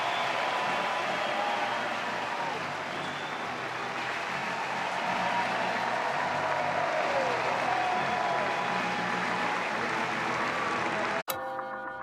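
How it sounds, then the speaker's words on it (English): A college baseball crowd at Auburn versus NC State applauds and cheers in a dense, steady wash of clapping that continues for about eleven seconds before cutting off abruptly. "And listen to this crowd as he steps back to the dugout."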